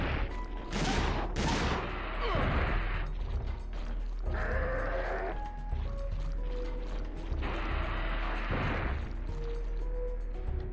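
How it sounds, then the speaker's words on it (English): Shotgun blasts in Dino Crisis 2, a few loud broadband bangs near the start and again around the middle, over a steady game soundtrack with mechanical clatter between shots. "Point blank range shotgun."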